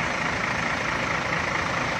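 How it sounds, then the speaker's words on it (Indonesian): A Hino RK260 tour bus engine idles at the rear with a steady, dense, loud rumble and no talking. "ini bis ini menggunakan mesin, tentunya mesin RK ya"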